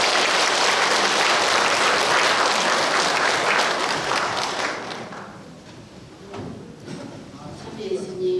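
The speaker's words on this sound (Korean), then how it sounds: "박수로 좀 환영해 주시기 바라겠습니다" A lecture audience at a Catholic parish special talk gives loud, dense applause welcoming a guest lecturer, strong for about five seconds and then thinning into scattered claps with a few knocks and rustles.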